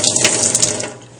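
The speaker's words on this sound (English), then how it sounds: "the water is actually falling above the slide and gently going over the specimen" Tap water gently runs over a microscope slide, rinsing excess dye off a stained specimen: a close, splashy trickle that fades away near the end.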